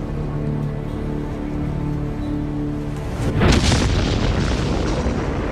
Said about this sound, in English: The next morning, the Allies bombarded the Normandy coast.